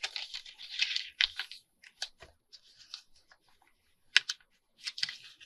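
Paper being folded and creased by hand into a faux envelope fold-down journal spot, giving short, crisp crinkles and rustles in scattered bursts with quiet gaps between them.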